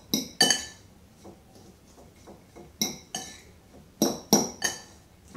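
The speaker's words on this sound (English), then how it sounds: "we're going to mix this together with a fork, making sure it's eats the onion and the ham's well mixed through" A fork stirring onion and ham together in a bowl, clinking against the sides in irregular bursts of sharp metallic taps, close and clear with no talk over it.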